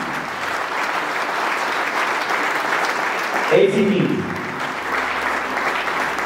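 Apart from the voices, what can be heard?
audience applause for heroes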